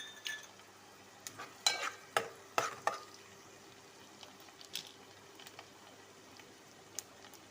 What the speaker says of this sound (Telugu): పచ్చిమిరకాయలు కూడా వేస్తున్నాను ఫ్రెండ్స్